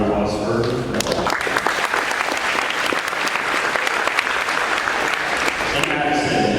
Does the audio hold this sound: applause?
yes